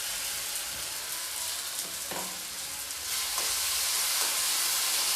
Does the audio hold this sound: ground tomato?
yes